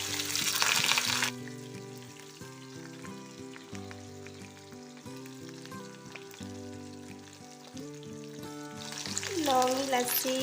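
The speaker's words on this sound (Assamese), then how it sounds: "তেলখিনি গৰম হোৱাৰ পাছত ইয়াত দিছোঁ কাটি লোৱা পিঁয়াজখিনি" Chopped onions hit hot oil in a kadai for a pepper chicken dry, giving a loud sizzling burst at the start and again at the end, with steady background music carrying through the quieter middle.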